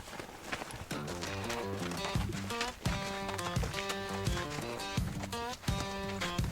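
A horse's hooves clip-clop in a steady, uneven walking rhythm, close and clear, over a background of sustained music-like tones.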